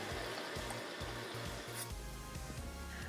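Almond milk and water poured into a measuring cup, a gurgling, splashing pour with uneven glugs, close and moderately loud, with a brief pause midway.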